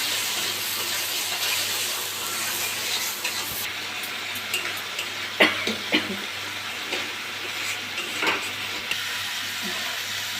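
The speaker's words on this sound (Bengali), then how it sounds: "এবার মশলাটাকে কষানো হবে।" Masala spice paste frying in a pan makes a soft, steady sizzle and hiss, with a few light scraping or stirring clicks around the middle.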